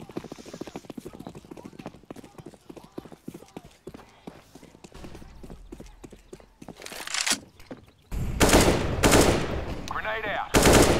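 Automatic AR rifle fire in CS:GO on the de_cache map, loud sustained bursts of game gunfire dominating the second half after a stretch of quieter clicks and footsteps, with speech in the background.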